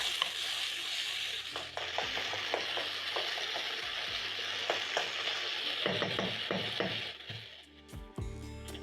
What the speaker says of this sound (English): Stir in the tomatoes into the onions.